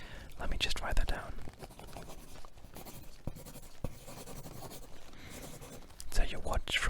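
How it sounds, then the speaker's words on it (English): A pen scratches out handwritten notes at close range, with irregular scribbling strokes and small taps, while a soft whispering voice speaks over parts of it. "but let me just write that down."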